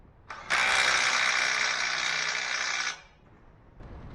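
A ratchet wrench tightens the lower control arm bolt on a 2007–2012 Hyundai Santa Fe, one sustained, loud run of rapid clicking lasting about two and a half seconds, then it stops.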